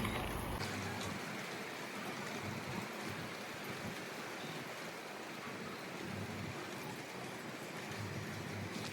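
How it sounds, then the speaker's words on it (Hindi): Steady hiss of rain falling, fairly faint and even throughout, with no talking. "बारिश स्टार्ट हो गई है।"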